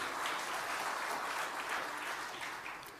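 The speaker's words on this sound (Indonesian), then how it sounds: "Tepuk tangan untuk Pak Nana, berkat beliau" An audience at a speech by the governor of Central Java breaks into applause, a faint, dense wash of many hands clapping steadily that fades slightly toward the end.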